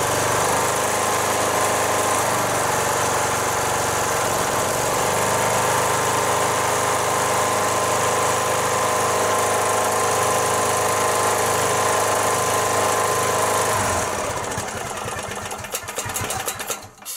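A Stiga Park riding mower with a troublesome carburettor runs steadily after starting, its engine droning loud and close with a constant buzzing hum for about fourteen seconds before the sound cuts away and ends in rattling handling noise.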